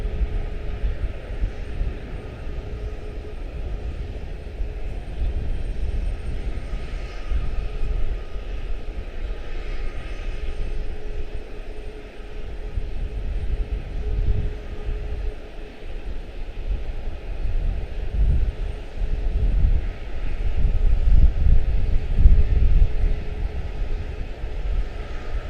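Airbus A350-1000 jet airliner at Charlotte-Douglas International, a continuous low engine roar with a steady whine, swelling louder toward the end.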